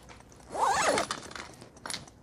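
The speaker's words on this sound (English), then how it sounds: "Zips down." Zipper on the cover of a Moremi roof top tent being pulled down in one continuous rasping stroke, loud and close, followed by quieter rustling of the fabric.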